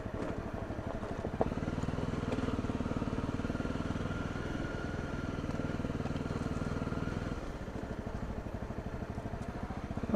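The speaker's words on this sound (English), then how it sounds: "it must be annoying living here with all these motorbikes filing past" A motorcycle engine chugs steadily and close on a rural trail ride, a rapid low throb that holds for several seconds before easing, with no talking.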